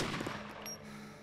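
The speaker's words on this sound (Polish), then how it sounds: "Dwa strzały i już gościa nie ma." Two gunshots ring out in the military video game ARMA II, quick sharp reports with a short decaying tail, fairly quiet and alone.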